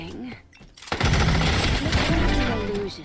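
A secondary weapon in a Strinova shooter match fires in a rapid, dense continuous burst after a short pause, loud and close, with a voice speaking briefly before it.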